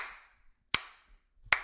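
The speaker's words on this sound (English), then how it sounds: "We're going to give you the slow clap." A slow clap: three sharp, isolated hand claps spaced nearly a second apart, close and crisp, each followed by a short ring-out in a quiet room.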